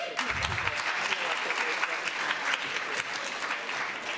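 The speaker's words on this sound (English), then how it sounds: "a large round of applause as they exit" A schoolroom audience at a citizenship competition gives a steady round of applause as contestants leave the stage, broad continuous clapping throughout with no break.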